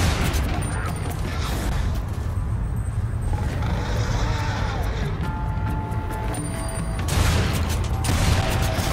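Dense, loud gunfire and booming blasts from the Lost Planet 3 video game fill the whole stretch without pause.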